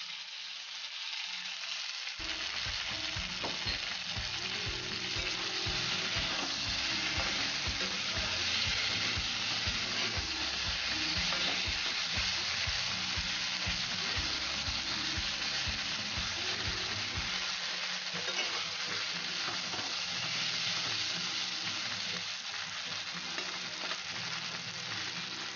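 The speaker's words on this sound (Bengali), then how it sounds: "এবার 4টে কাঁচা লঙ্কা দিয়ে দেবো।" Four green chillies drop into a pan of hot oil while cooking mutton and potato curry, giving a continuous hissing sizzle with scattered low clatters of utensils, moderately quiet and without voices.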